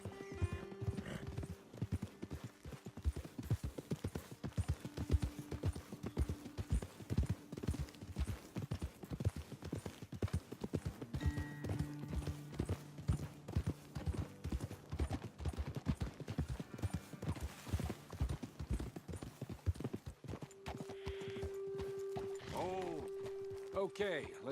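Horse hooves clip-clop at a gallop across open ground in Red Dead Redemption 2, a steady rapid rhythm near and loud throughout, with whinnies and background game music layered in and voices talking over parts of it.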